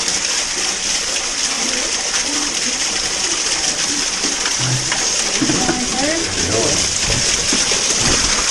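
Rushing water from a waterfall inside the main cave at Horne Lake Provincial Park fills the space with a steady, loud, echoing roar that continues throughout.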